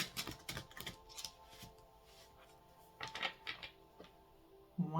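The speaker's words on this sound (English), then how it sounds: "One last shuffle here." A deck of reading cards being shuffled by hand, with quiet papery riffles and taps in short bursts and pauses between them, faint and close.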